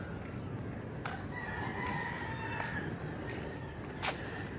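Roosters crow a few times from a short distance on an early morning walk outdoors. Each call is brief and rises over a steady, noisy background of open-air ambience.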